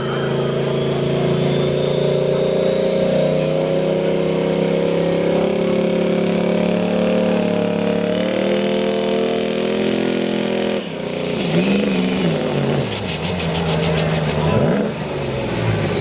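Turbocharged diesel pickup in a truck pull at a diesel powerfest roars loud and close, a long sustained pull with shifting pitch as the transmission shifts, then revs and wavers toward the end.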